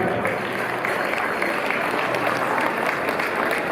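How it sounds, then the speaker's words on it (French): Festival crowd in Colmar at the Vosgienne festival applauds steadily and densely, a continuous wash of clapping heard close and loud, with a few voices mixed in under it. "On peut les applaudir"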